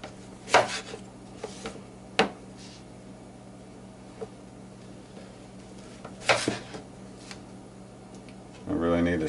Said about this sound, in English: So you're going to want to cut the potatoes